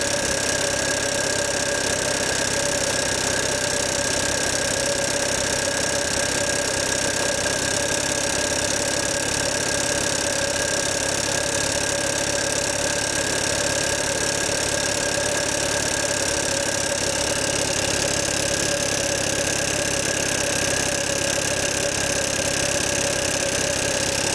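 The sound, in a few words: old Stuart double-action steam engine running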